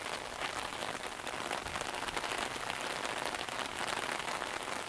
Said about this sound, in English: Not much else is happening besides rain.